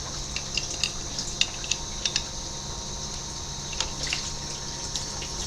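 Engine coolant drains from a removed lower hose on a 2019 Ford Fusion 2.0L EcoBoost, a steady close trickle spattering over plastic, with small scattered taps and clicks on top.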